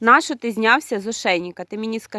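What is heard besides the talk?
None of the usual background noises is heard.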